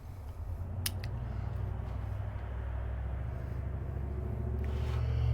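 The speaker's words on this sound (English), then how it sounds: "I hear a big truck, like a tow truck," A big truck, something like a tow truck, rumbles steadily nearby, its deep engine drone holding through the whole stretch and building slightly toward the end, with no talking.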